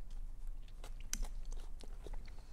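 Someone bites into and chews a big Caesar wrap during a mukbang, with close, moist crunchy bites and chewing in short irregular bursts, no talking.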